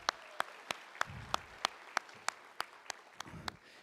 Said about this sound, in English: let's give both of them a round of applause right now as well